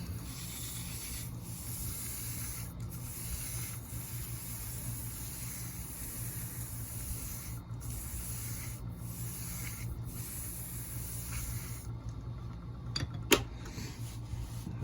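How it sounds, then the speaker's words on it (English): A wood lathe spins a duck call barrel as shavings are held against it to pull off dust, giving a steady rubbing, sanding hiss over a low motor hum, with brief pauses. "Turn the lathe back on. Let it pull all the dust off of it."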